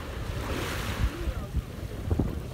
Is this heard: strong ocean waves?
yes